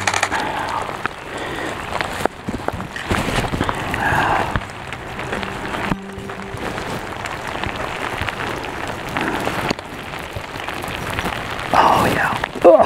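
Heavy rain pours outdoors where mallards sit on the water, a dense, loud, continuous hiss and patter of drops on surfaces, close and unbroken.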